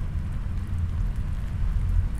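Steady rain falls in the video game Spirits of Xanadu, a dense, even low rumbling wash with no distinct drops, constant and moderately loud throughout with no talk.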